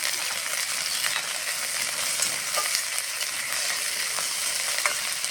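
Lata fish fries in a pan as chopped coriander is stirred in, a constant loud sizzle with occasional scraping taps from the stirring utensil.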